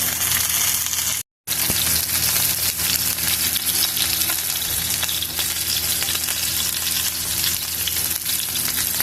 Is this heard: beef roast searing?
yes